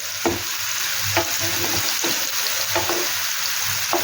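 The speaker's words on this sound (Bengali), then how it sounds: "পেঁয়াজটাকে ভালো করে ভাজবো" Onions fry with a loud, steady sizzle, and a utensil scrapes and stirs through the pan at regular intervals; no voices.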